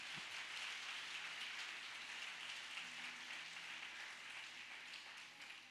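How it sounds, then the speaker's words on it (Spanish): Church congregation applauding during a Sunday revival service, a broad, hissing wash of many hands clapping at once, fairly distant and steady, thinning slightly toward the end. "denle un aplauso a Dios, arriba"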